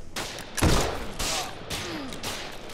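Gunfire in the game 7 Days to Die: several sharp shots spaced unevenly across a few seconds, moderately loud and close, with one heavier blast standing out.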